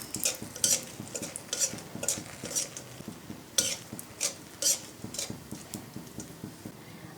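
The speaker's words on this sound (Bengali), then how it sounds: "আমি ওই তেলের ভিতরে দিয়ে দেবো 2টা শুকনো মরিচ" Two dried red chillies sizzling in hot oil in a pan, with repeated scraping and clinking of a utensil as they are stirred, steady crackle underneath.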